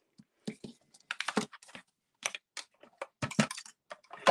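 A small hand-cranked mini cut and emboss die-cutting machine runs card through its rollers, giving irregular bursts of close, crisp clicking and ratcheting with short pauses between.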